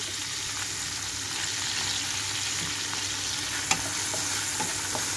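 Prawns fry in a pan with turmeric and salt, giving a continuous close sizzle with faint stirring scrapes and a couple of sharp clicks near the end, and no talking.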